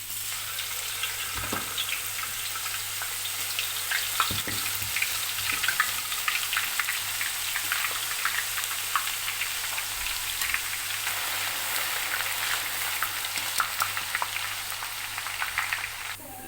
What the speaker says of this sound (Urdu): اب میں گھی میں لہسن ڈالوں گا، اس کو فرائی کروں گا۔